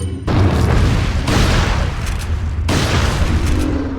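A hand grenade goes off in the 2005 video game Resident Evil 4, giving a loud, close boom followed by a second blast a little over a second later and a third near the end, each trailing into rumbling debris.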